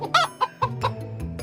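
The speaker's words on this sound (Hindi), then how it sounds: "सभी लोग मिलकर एक मुर्गी को पकड़ने की कोशिश कर रहे थे।" A hen clucks in short, repeated bursts, close and fairly loud, while people nearby try to catch it outdoors.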